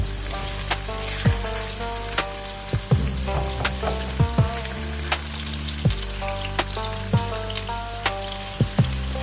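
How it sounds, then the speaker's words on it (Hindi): Onions sizzle and crackle in hot oil in a pan for an aloo gosht curry, a steady frying hiss with repeated clinks and stirring knocks from a utensil, close and fairly loud, with no talk. "ऑयल हमारा गर्म हो चुका है, इसमें हम सबसे पहले प्याज ऐड करेंगे"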